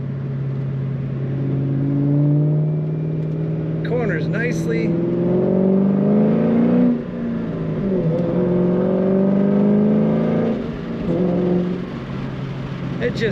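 A 2003 Ford Mustang Mach 1 coupe accelerates on the road, its engine droning loudly and climbing in pitch through the gears, with someone talking from inside the car.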